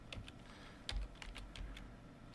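Keys on a computer keyboard being typed in a short, uneven burst of clacks, fairly close and on their own with no talking, while text is entered into a font title field in editing software.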